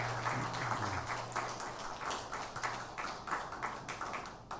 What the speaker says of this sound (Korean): 은혜로운 찬양해 주신 성가대원들에게 다시 한번 감사의 박수하겠습니다